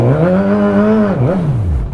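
A Suzuki GSX S1000 motorcycle engine is blipped close up, its pitch climbing and holding, then dipping sharply and rising once more before dropping away, loud and without any talk over it.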